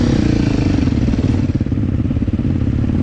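Supermoto motorcycles riding close by, a loud, steady, throbbing engine drone with a rapid pulsing beat and no voices.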